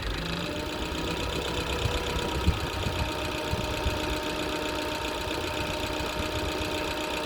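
A 1936 Hillman Minx car engine running at a steady idle, an even mechanical hum with a constant rhythmic knock, close and unbroken throughout.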